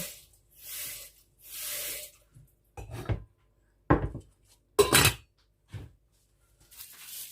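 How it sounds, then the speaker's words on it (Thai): A grandma mashes hot boiled pumpkin with a spoon, making soft wet squishing strokes and a few sharper scrapes against the bowl, spaced irregularly with quiet gaps between them. "คุณยายต้ม บด เนี่ย เอาช้อนมายีช่วง เขาร้อนร้อน"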